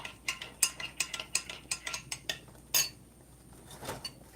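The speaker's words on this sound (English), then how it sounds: "I'm going to stir it again." A spoon scrapes and clinks against a pot while homemade banana pudding is stirred, a quick run of close metallic knocks and scrapes in an uneven rhythm with no talking.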